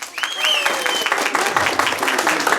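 Wedding guests in Apatug Alto clap for a couple in a party game, a loud, steady burst of dense applause with a whistle-like tone and voices mixed in.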